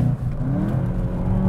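A 2019 VW Jetta GLI engine pulls hard through a corner, its steady drone rising gradually in pitch from inside the cabin with no talking.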